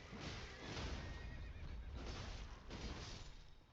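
A horse in a video game neighs and whinnies loudly and closely for several seconds, a rough, sustained cry with rising and falling surges over a noisy background, with no talking.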